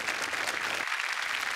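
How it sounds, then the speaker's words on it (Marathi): Audience applause for a guest on stage at a Marathi TV serial event, a dense wash of clapping that runs throughout and stays steady and fairly loud. "योगेश केळकर यांच्यासाठी जोरदार टाळ्या."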